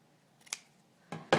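Scissors snip through a fabric binding strip in two or three short, crisp cuts, close and fairly quiet against a hushed room.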